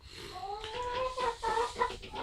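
Chickens cluck and call steadily inside a DIY-built coop, with several overlapping bird voices, fairly close and continuous, and no talking.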